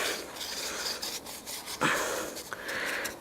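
Rust converter brushed onto Toyota Hilux rear drum brake parts, close scratchy bristle strokes rubbing over metal in short repeated passes, fairly quiet with no talking.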